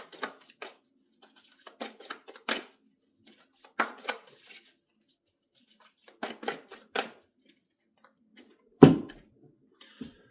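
Tarot cards being shuffled in short, uneven bursts of riffling and flicking, with one louder slap of cards near the end and quiet gaps between.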